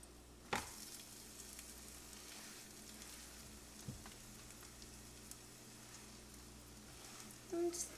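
A green scallion pancake fries in a pan with a steady, quiet sizzle that holds throughout, marked by a couple of brief clatters and a louder burst near the end.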